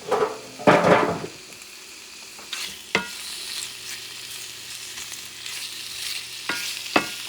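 Shrimp frying in a hot pan: a loud clatter as they go in, then a steady sizzle and hiss with a few sharp scrapes and knocks of a utensil, nobody speaking.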